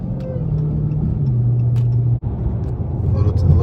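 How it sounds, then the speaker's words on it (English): Dodge Hellcat with a Legmaker intake running steadily, a sustained supercharger whine riding over a loud engine drone, with excited voices talking over it. "Oh my god, the whine is 10 times louder, bro."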